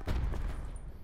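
Short burst of rapid gunfire aimed at a tank in Blackout, a low, muffled rattle of several quick shots that fades within a second, with no talk.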